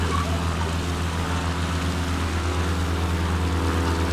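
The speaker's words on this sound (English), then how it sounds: "I knew I could hear another plane." Steady, droning airplane engine hum in a flight simulator game set in the Alaska bush, continuous and fairly loud throughout, with no one talking.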